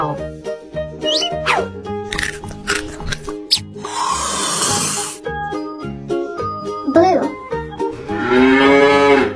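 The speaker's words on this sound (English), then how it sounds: "Cow" A cow moos loudly a couple of times amid a busy musical background, the low drawn-out calls standing out clearly.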